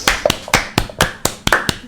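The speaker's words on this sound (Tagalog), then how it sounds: "Palakpakan natin sila ng masigabong palakpak." Audience applauding contest winners at a lively hosted event, a few close hands clapping in uneven, spaced bursts rather than a full crowd roar.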